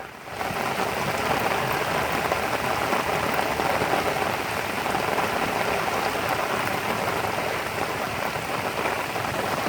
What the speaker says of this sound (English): So much rain has fallen in Louisiana that this is what we have.